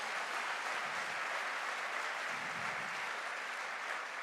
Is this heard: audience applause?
yes